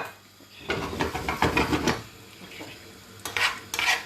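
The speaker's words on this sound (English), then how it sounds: "let the mustard seeds pop" Mustard seeds fry and pop in hot oil in a pan, giving bursts of crackling and spitting that come in clustered waves, loud and close, with brief quieter gaps between.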